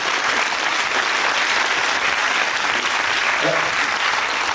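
An audience breaks into sustained applause, a dense steady wash of clapping filling the room without pause, loud and close.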